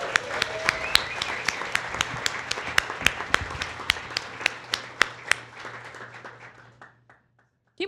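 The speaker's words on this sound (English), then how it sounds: "Keep clapping." Applause from a live audience at a PlayStation fan show, with dense clapping and sharp individual claps standing out, fading steadily and dying to silence near the end.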